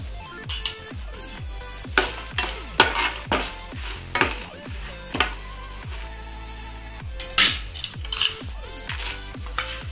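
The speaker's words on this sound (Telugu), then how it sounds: "త్రీ స్పూన్స్ మినప్పప్పు వేసుకుని వేయించుకుందాం." Chana dal, urad dal and dried red chilies fry in hot oil in a pan, with a steady sizzle broken by repeated scraping and stirring of a metal spoon, close and loud.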